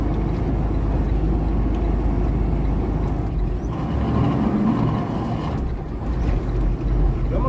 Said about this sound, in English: I'm going to drop a gear here again.